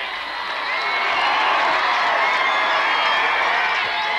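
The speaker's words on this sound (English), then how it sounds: "Listen to the crowd, listen to it!" Crowd cheering at a 1992 Ballyshannon homecoming welcome for the Donegal team and the Sam Maguire cup, a steady roaring wash of many voices, shouts and whoops heard from a distance.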